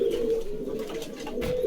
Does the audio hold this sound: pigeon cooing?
yes